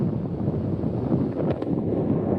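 Wind gusts buffet the microphone on a hiking trail at Stone Mountain, giving a continuous low roar that swells and eases with no voices.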